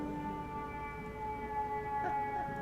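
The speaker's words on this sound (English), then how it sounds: "Pause for siren." A siren wails steadily in the distance, a sustained tonal drone with layered pitches, faint and unbroken throughout.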